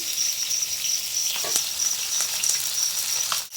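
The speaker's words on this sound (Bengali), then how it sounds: "মাছগুলো এবার হইতে দেবো বেশি কড়া করে ভাজবো না হালকা লাল করে ভেজে নেবো মাছগুলো" Small mixed fish fry in hot oil in a pan, a steady close-up sizzling hiss with crackling spits throughout.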